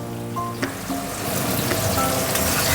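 New potatoes and a whole tomato fry in hot oil with a loud, dense crackling sizzle that grows stronger and steadier over the clip, with a few light clinks early on.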